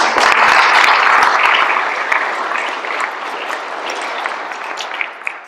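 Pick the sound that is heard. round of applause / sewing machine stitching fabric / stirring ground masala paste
round of applause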